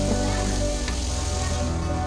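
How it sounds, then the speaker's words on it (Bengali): Ginger and a whole tomato frying in hot oil give off a steady, moderately loud sizzle with a brief crackle midway and no talk. "এবার দিয়ে দিলাম আদা আদা তেলের মধ্যে দিলে প্রচণ্ড ছিটকায়"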